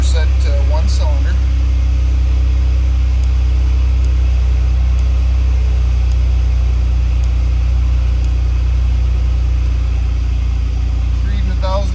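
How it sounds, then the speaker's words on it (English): Jeep engine idling steadily with a loud, continuous low rumble throughout, a few faint clicks and brief bursts of noise near the start and end, no talk over it. "So, just to verify this, we'll start the Jeep up."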